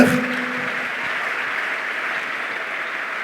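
A church congregation applauding to acclaim the Lord, steady dense clapping from many hands that sustains evenly without a break.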